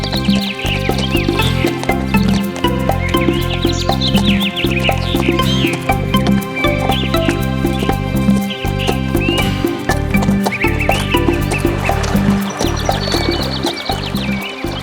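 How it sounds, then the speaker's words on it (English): A horse clip-clops steadily at a walk, hooves striking in an even rhythm, with loud neighs and whinnies rising over the steps; close and prominent with no talk. "Come on, horse, start walking."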